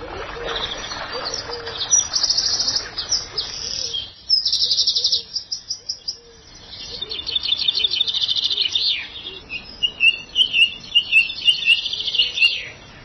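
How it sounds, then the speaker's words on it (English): Birds sing and chirp continuously in a wildlife-rich garden at Highgrove, with several overlapping calls and repeated bright phrases, some near and some farther off, with no talking. "the sheer amount of bird song is just absolutely phenomenal"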